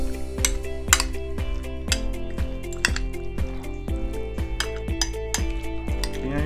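Ahi tuna and salmon poke is mixed in a bowl: rapid clinks of a utensil against the bowl with soft, wet squishing, close and continuous.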